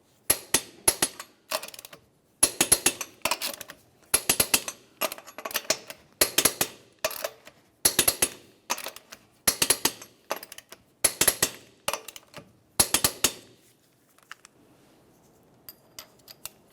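A torque wrench on the wheel lug nuts of a 1994–2002 Dodge Ram 2500 gives bursts of rapid, close ratcheting clicks, repeated in short sets with pauses between nuts, then a faint rustle at the end.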